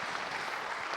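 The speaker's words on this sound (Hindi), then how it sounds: "उनके लिए भी खूब अभिनंदन के लिए तालियां" Audience applause at a panel discussion, a dense, steady wash of clapping from a crowd, brief and fairly faint.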